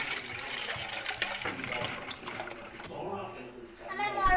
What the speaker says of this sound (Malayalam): ഇനി നമുക്ക് സോഡ ഒഴിക്കാം.